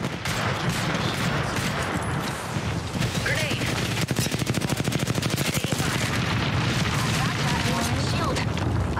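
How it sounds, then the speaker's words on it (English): In the Apex Legends video game, a knuckle cluster grenade bursts into a rapid chain of loud crackling explosions, dense and rhythmic, with game noise and voices mixed in. "Launching me knuckle cluster."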